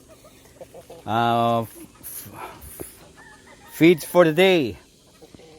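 Adult free-range hens on a farm cluck at feeding time, with a loud burst of clucking, a pause, then a rising run of squawking calls. Someone speaks briefly between them.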